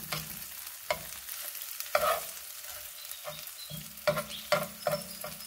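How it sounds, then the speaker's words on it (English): Egg white being scrambled as it fries in a pan, with a soft steady sizzle and repeated scraping stirs of a utensil against the pan at irregular intervals, close and fairly quiet. "Scramble up the white bit. Flip it if you have to."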